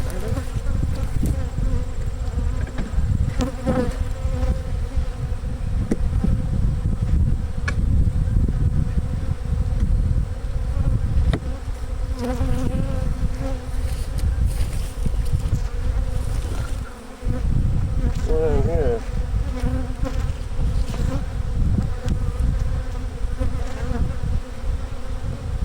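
Honeybees robbing at an open hive full of uncapped nectar, a dense, continuous close-up buzzing of many bees with individual wingbeats darting past the mic.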